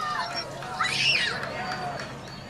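A crowd gathered outdoors for a solar eclipse cheers as totality arrives, a distant swelling mix of whoops, screams and chatter rising in the middle, with a nearby voice talking over it throughout.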